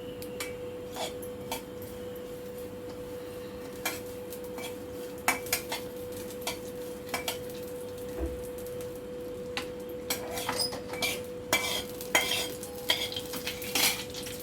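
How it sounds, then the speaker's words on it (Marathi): Poppy seeds and dry fruits roasting in ghee in a pan: a spoon repeatedly scrapes and clinks against the metal over a soft, steady sizzle, with the clatter growing busier toward the end. "1 चमचाभर खसखस आहे, मी आता तुपामध्ये छानपैकी भाजून घेत आहे."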